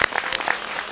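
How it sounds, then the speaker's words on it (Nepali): An audience at a Nepali singing competition breaks into a short, loud burst of clapping, close and dense. "जोरदार ताली दिउँ"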